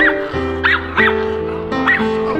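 A service dog barks in short yips and whimpering bow-wows at a waterfront, three or four close, loud calls spaced across a couple of seconds.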